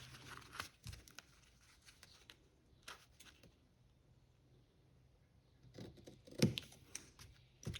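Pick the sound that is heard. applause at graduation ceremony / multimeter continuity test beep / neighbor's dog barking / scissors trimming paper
scissors trimming paper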